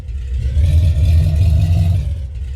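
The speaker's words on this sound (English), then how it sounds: "And this engine is quite loud, right?" A Ford F250 truck's engine rumbles loudly and steadily while driving, a deep, close drone that swells slightly mid-way and eases off toward the end.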